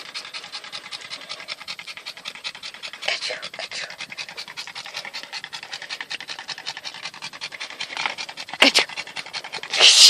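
A puppy pants rapidly and steadily inside a car on a hot day, close and continuous, with a few rustles and a brief scrape toward the end.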